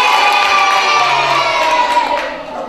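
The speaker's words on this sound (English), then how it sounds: "He's wondering if you could clap and go yay for him." A roomful of children at a magic show cheers with loud, sustained shouts of yay, high voices merging into one long crowd cheer that fades slightly at the end.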